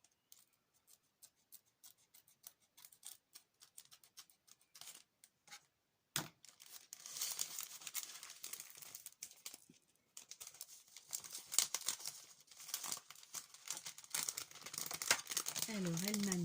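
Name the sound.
scissors cutting paper for album closure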